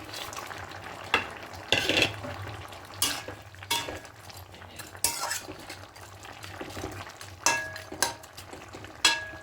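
Small fried fish being added to a half-cooked potato curry in a pan, with a quiet simmer under intermittent clinks and scrapes of a metal spoon against the pan, close and unvoiced.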